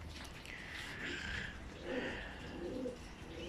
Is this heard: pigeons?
yes